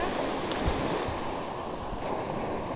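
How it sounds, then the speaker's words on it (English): Ocean waves wash steadily onto a beach, a broad continuous roar of surf with light wind buffeting the microphone and no voices. "Oh, here comes more waves."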